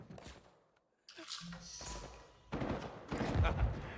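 Uncharted 4 multiplayer gunfire, sharp bursts of shots and impacts that cut out briefly, then return louder and denser near the end, mixed with other game sounds.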